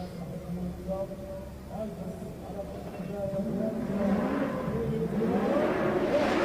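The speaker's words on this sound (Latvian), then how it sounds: "up next is Alves Let's Canales E36 BMW representing Latvia" A Latvian-entered BMW E36 drift car revs and whirs on a drift track, engine rising and falling at a distance, with a commentator talking over it throughout.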